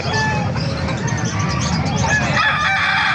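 Rooster crowing loudly and close at a Calumpit, Bulacan chicken market, a sustained crow over clucking fowl and crowd murmur for about three seconds.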